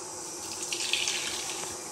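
Hot water is scooped from a pot boiling on the stove while making rava kurdai, producing a brief liquid splash and pouring sound over the steady bubbling hiss.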